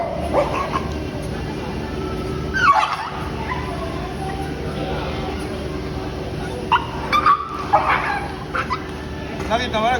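A dog barks and yelps wildly in repeated loud bursts, with a person talking over and between the barks close by.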